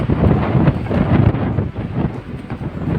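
Strong wind buffets the microphone on an open building site where foundation work is starting and concrete posts are being set, a continuous loud roar with gusty surges and no voices.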